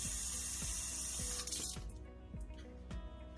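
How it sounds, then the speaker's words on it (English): Hot water from a tap pours steadily into a silicone bladder, a close, continuous hiss and splash that softens and thins partway through. "Get some hot water and fill the silicone bladder."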